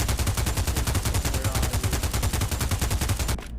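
Assault rifle in the VR shooter game Pavlov firing a long, rapid fully automatic burst, evenly spaced loud sharp shots for over three seconds before abruptly stopping.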